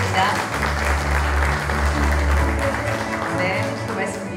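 A forum audience breaks into loud sustained applause in a hall, a dense wash of clapping that slowly fades, with a voice speaking over it.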